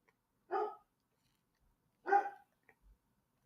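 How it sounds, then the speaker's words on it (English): A dog barks at the front door of a house: two loud, separate barks about a second and a half apart, then near silence with a faint small knock. "He's barking at the front door."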